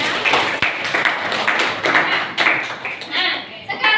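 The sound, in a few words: class clapping hands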